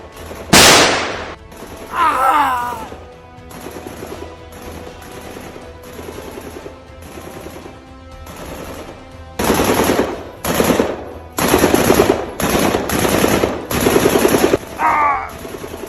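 Machine gun fire crackles through a war film about a battle against Chinese forces: sharp rapid bursts, several loud volleys separated by short pauses, with distant rattling shots between them.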